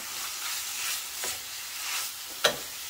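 Pieces of sausage, pulled apart, brown and sizzle in a cast iron pan with a steady, close frying hiss, broken by a few brief scraping stirs, one sharper than the rest near the end.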